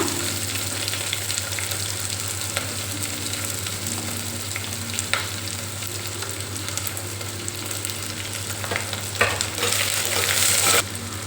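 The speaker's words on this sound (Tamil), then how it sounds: "வெங்காயம் போட்டு வதக்கிக்கோங்க" Onions sautéing in oil in a pan for a spicy broad bean curry, a steady close sizzle and crackle with occasional stirring scrapes and a brief louder burst near the end.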